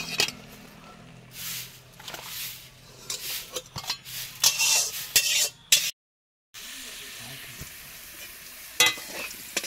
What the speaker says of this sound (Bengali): আলুটা ভাজা হয়ে গেছে